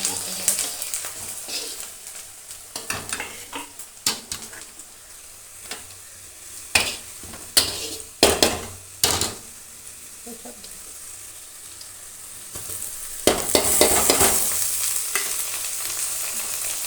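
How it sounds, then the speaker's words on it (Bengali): Ginger, onion, garlic and green chili frying in hot oil, a steady close sizzle with intermittent stirring scrapes and clacks of a utensil against the pan. "আদা, পেঁয়াজ আর রসুন কুচি আর কাঁচা লঙ্কা কুচিকে আমি একসাথে তেল গরম করে ভেজে নিচ্ছি"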